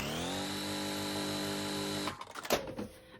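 A sewing machine stitches fabric strips together in a steady, even whir for about two seconds, then stops with a few clicks and handling noises.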